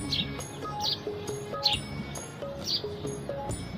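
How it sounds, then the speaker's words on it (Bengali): Small birds chirp near a rooftop garden in a rapid, repeating pattern of short, bright tweets, with a faint background hum underneath. "কিছু শব্দ পাখি ডাকতেছে শুনতে পাচ্ছেন আপনারা"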